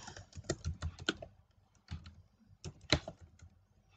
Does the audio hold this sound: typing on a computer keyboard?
yes